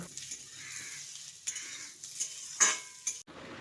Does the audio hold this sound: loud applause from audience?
no